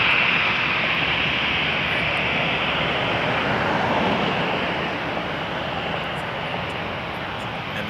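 Airliner taking off from Toronto Pearson Airport, a loud sustained engine roar and broad rushing noise that holds steady then slowly eases over several seconds.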